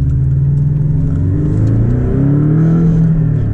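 A Porsche 718 Boxster GTS with a manual gearbox accelerates hard, its engine note climbing steadily and loudly from inside the cabin with no talking over it.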